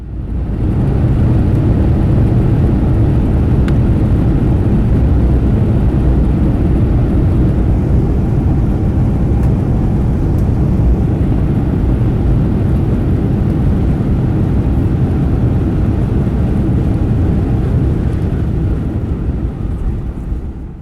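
A Southwest Airlines Boeing 737 touching down and rolling out, heard from inside the cabin as a loud, steady low roar of engines and wheels that holds evenly throughout before easing slightly at the end.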